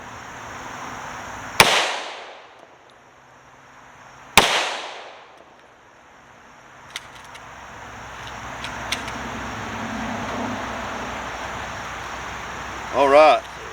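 Tokarev pistols firing at an outdoor range, two loud, widely spaced gunshots with long echoing tails, followed by fainter distant pops and low background rumble.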